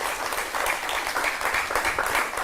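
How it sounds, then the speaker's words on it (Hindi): An audience claps to welcome BJP Rajya Sabha MP Sudhanshu Trivedi, a steady, moderately loud patter of many hands that holds evenly throughout, with no speech. "जोरदार तालियों के साथ उनका स्वागत करें।"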